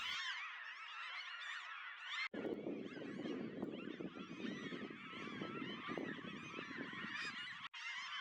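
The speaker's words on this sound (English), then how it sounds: "This pond is full of seagulls, and as you can hear, they've got a lot to say right now." A crowd of seagulls calls noisily and continuously on a pond, honking and squawking over one another near the water with a low rumble beneath, at Moss Lake in Elk Island National Park, Alberta.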